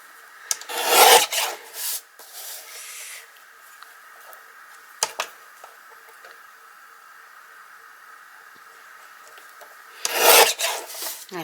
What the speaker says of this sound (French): avec la guillotine, je vais en découper un peu